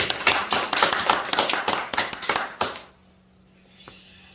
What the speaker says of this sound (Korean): 하나님께 같은 마음으로 박수 한번 보내실까요?